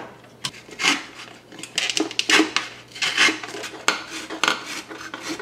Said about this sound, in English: I'm going to cut a cylinder here that I can use to give shape to the burger patties.